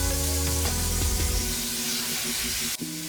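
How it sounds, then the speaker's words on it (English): Burgers sizzle loudly in bacon fat in a hot pan, a dense steady hiss with some crackling, close up and without talk. "We'll just put these in the pan. Nice sizzle."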